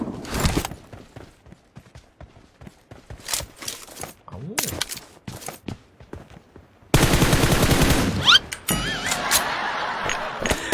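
Gunfire in the mobile battle-royale game PUBG Mobile: scattered single shots and short bursts, then a dense, loud stretch of rapid automatic fire followed by more shots, close and sharp.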